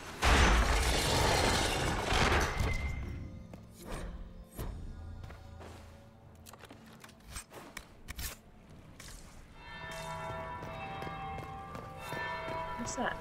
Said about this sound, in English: What's that? That's the bell.